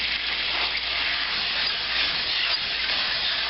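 Sauce reducing in a pan for veal saltimbocca, giving off a steady, loud steaming hiss that holds even and unbroken throughout, with no voices.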